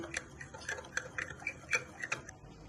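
A spoon clinks and scrapes against a bowl in quick, regular taps as a mixture of water and cornflour is stirred, quiet and close.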